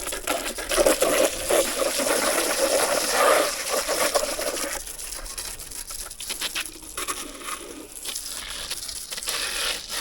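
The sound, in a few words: water poured over a car to wash dust off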